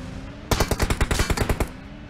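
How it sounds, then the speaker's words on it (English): A rapid burst of automatic gunfire from the PUBG Mobile video game, about a dozen sharp shots in quick succession, loud and close, with no talk over it. "Oh, he's getting shot in between them."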